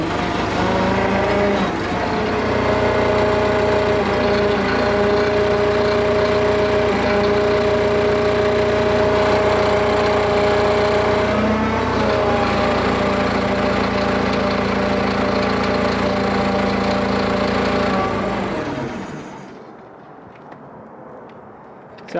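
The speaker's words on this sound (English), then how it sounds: "if we fire this bad boy up" The motor of a 1970s Drott crane winch runs with a steady, loud droning hum and a whining tone for about eighteen seconds, then winds down and stops.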